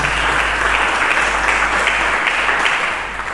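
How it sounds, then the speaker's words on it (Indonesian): A church congregation breaks into applause during a sermon, a thick, steady wash of many hands clapping in a reverberant hall that tapers slightly toward the end, over a low hum. "Berikan tepuk tangan bagi Yesus Kristus Tuhan"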